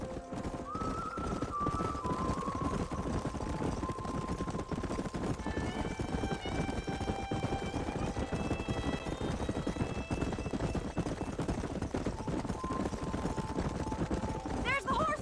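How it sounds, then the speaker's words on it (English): Horses galloping in the video game Red Dead Redemption: continuous clip-clop hoofbeats with a whinny, thick under steady game ambience and sustained musical tones. "There's the horses!"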